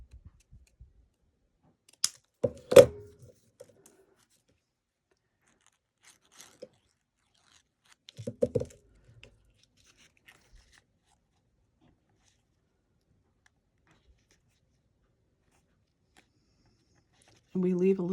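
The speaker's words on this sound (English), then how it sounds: "I'm going to cut it off right here" Scissors snipping through paper craft material in a few short, crisp crunching cuts, close and fairly quiet amid long silent pauses, with a brief voice near the end.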